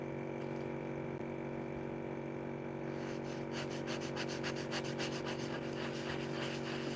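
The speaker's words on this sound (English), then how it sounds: "Over here, it still needs to be sanded." Hand sanding of auto body glazing compound in circular motions on a car's paint repair, a steady close scraping rub that turns into quicker, rhythmic strokes partway through, with no talking.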